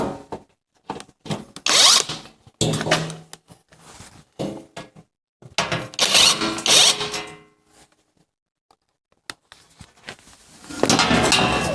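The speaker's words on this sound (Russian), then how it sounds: "Откручиваем 2 винта задних. И снимаем защиту." Power drill or driver whirring in several bursts while unscrewing the two rear screws of the metal underbody shield on a 1.6 petrol Renault Captur in a garage, with quiet pauses between runs.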